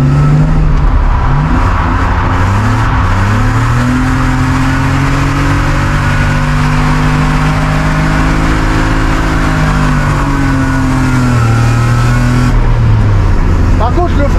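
A drift practice car revs hard, its engine climbing and falling in pitch through repeated rising and dropping sweeps, loud and close throughout, with people talking over the engine.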